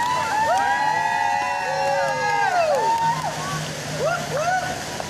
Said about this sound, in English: Keep the cheering going, I can hear you.